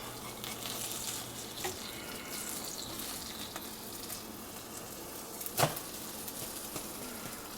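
A Russian Reuben sandwich fries in a pan with a steady, close sizzle, joined by soft scraping and one sharp clatter as it is flipped over.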